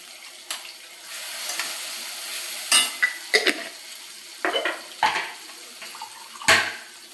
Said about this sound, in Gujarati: થોડુંક પાણી નાખશું.